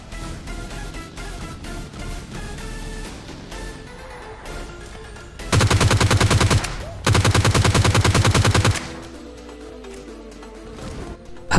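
Close-range automatic gunfire in PUBG Lite rips out as two loud, rapid bursts lasting about three seconds, set against quieter in-game ambience before and after.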